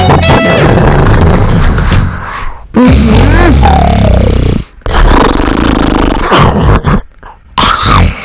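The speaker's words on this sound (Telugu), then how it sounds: "బాగా ఫుడ్ తిని బెడ్ మీద గురక సౌండ్ ఏమిటి?" A person lies in bed after a big meal and snores loudly, with long rasping breaths broken by short pauses and a few grunting, throaty bursts.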